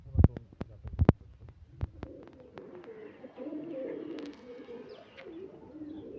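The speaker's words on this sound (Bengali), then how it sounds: "এটা পুরাতন জাতের কবুতর।" An old-breed pigeon gives soft, low cooing close by, after a run of sharp taps and flutters at the start.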